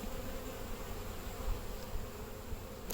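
Honey bees hum in a dense, continuous drone around a beehive, close and steady without pause.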